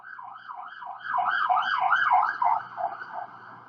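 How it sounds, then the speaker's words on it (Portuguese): An ambulance siren wails in a rapid rising-and-falling pattern, loud and close, steadily building in strength as it passes, with no voices over it. "Deixa passar a ambulância."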